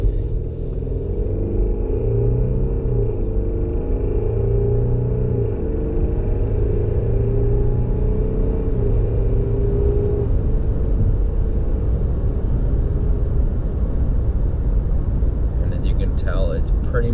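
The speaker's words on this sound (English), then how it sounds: "So we'll start moving here, see if you can hear the motor a little bit." Inside a 2022 Volvo S60 Recharge T8 R-Design plug-in hybrid accelerating on the road, a loud, steady low rumble of road and cabin noise carries faint rising motor tones throughout.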